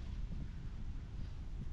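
Wind gusting across an open fishing spot during feeder fishing for crucian carp and bream, a steady low rumbling buffet on the microphone with no voices.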